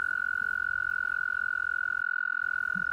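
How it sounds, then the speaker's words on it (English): Toads call by a pond in spring with a steady, sustained high trill that runs unbroken and fairly loud, over faint low background noise. "I'm beginning to hear the sounds of toads."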